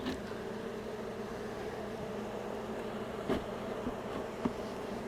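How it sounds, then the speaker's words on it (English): A honeybee colony in a hive roars with a dense, steady buzz right after a frame from another colony is swapped in, close and continuous with a few brief knocks and no talk. "The colony just started roaring a little bit louder, their buzz noise"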